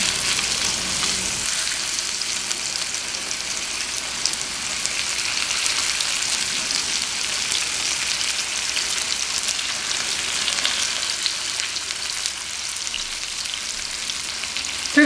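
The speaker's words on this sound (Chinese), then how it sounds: "放入鸡排煎炸" A chicken cutlet fries in oil heated to about 130 degrees over medium heat, producing a loud, continuous, even crackling sizzle that barely changes for the whole stretch.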